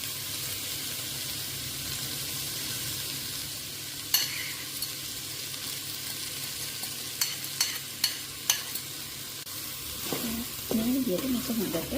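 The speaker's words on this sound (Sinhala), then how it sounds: "දැන් මේ වෙලාවේදී මම සූදානම් කරගත්ත බිත්තර දෙක මේකට එකතු කරගන්නවා." Cabbage and rice frying in a pan while two eggs are added, a steady soft sizzle broken by a few sharp clicks and knocks of a utensil, with stirring and louder crackling near the end.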